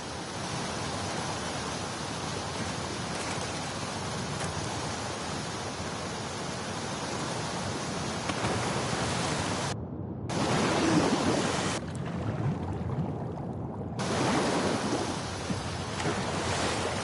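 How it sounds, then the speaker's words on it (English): A fast-flowing torrent of water in The Last of Us Part II rushes as a steady, broad, hissing roar. It cuts out briefly twice before resuming at full strength. "the player was faced with a fast-flowing torrent of water they couldn't cross"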